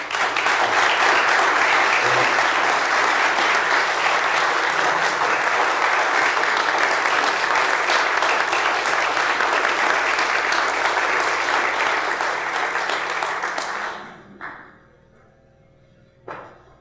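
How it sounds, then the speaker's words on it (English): A city council chamber audience applauds in a long, even burst of many hands clapping, loud and sustained for roughly fourteen seconds before it fades out quickly, leaving a few faint thumps. "If you would please join me in a round of applause for these people."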